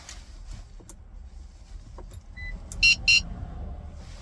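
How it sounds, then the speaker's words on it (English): Two short electronic beeps close together, clear and fairly loud, from a 2008-2018 Lexus LX 570 during key fob programming, set against a quiet background with faint clicks beforehand. "wait for a few seconds until you hear the beeping sound"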